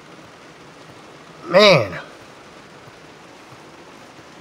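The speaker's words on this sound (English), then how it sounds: "It is storming pretty good here. That rain is coming down." Heavy rain pours down steadily during a storm, a dense, even hiss filling the whole stretch, with a man's brief exclamation rising over it partway through.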